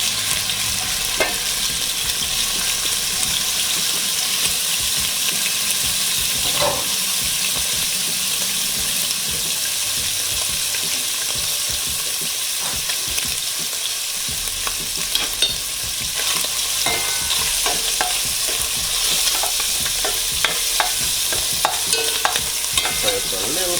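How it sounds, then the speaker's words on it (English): Saltfish frying in hot oil in a pan, a continuous close sizzle with intermittent clinks and scrapes of stirring over the length of the sound, no speech. "I'm gonna put the saltfish in the oil to fry a little bit before I put the veggies and stuff"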